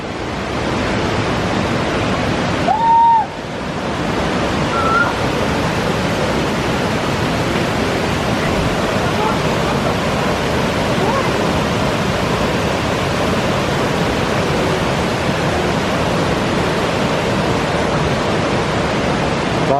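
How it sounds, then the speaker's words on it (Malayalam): River water rushing at the TK Colony viewpoint in Nilambur in a constant, broadband roar that stays steady throughout, near and loud, with a brief thump early on and no talking. "ഒഴുകി വരുന്ന നല്ല മിനറൽസ് അടങ്ങിയ വെള്ളമാണ്"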